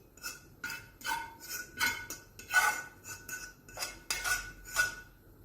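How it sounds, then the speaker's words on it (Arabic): A spoon spreads minced meat over a layer of mashed potatoes, making repeated rhythmic scrapes and light clinks against the dish, close and fairly quiet. "بوزع انا اللحمه المفرومه كويس جدا علشان كل حته في البطاطس تبقى فيها لحمه مفرومه"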